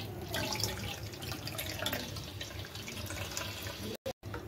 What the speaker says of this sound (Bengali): এখন আমি লেবু আর পুদিনা পাতা শরবতটা একটু ছেঁকে নিচ্ছি।